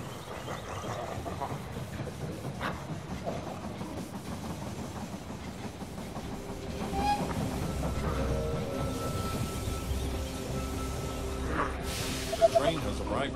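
A train pulls into a station in the strategy game They Are Billions, with a steady rumbling, clattering run that swells midway and sits under continuous game ambience and faint voice lines.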